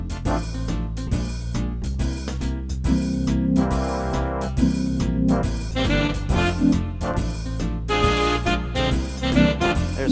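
Big-band swing recording with brass and reed sections in a steady swing rhythm, punchy stabs and sustained chords, full and loud with no voices.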